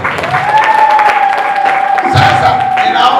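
Congregation at a Swahili church service clapping and cheering for Jesus, loud crowd applause under a sustained held tone, with a burst of cheering near the end.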